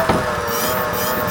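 An electric scooter motor run by a VESC controller in square-wave mode, giving a loud, steady close-up whine with a rough, buzzing texture that holds evenly for just over a second.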